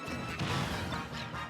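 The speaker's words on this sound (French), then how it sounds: "Oh bien vu, la petite grenade qui explose." A small grenade bursts in a competitive online video game match, a dense crunching smash spread across about a second and a half with no clear single peak, fairly quiet in the mix.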